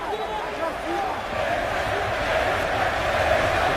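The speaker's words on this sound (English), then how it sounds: "The crowd getting behind their home fighter here at the O2 Arena." Arena crowd at a UFC fight night at the O2 Arena roaring steadily behind the home fighter, a dense sustained wash of cheering heard under commentary.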